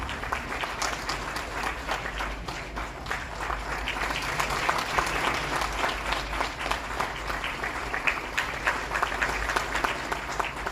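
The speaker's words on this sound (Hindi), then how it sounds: "आप सबकी तालियों में इस समय पूरे उत्तर प्रदेश की तालियों की आवाज होनी चाहिए।" An audience at a Teachers' Day ceremony honouring teachers in Uttar Pradesh claps steadily, a sustained dense round of applause from a sizeable crowd, moderately loud and even throughout.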